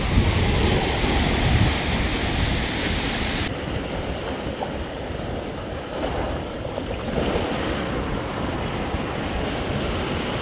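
Sea waves wash in deep water off a beach in the Maldives, a steady, fairly loud rush of surf mixed with wind noise and no voices.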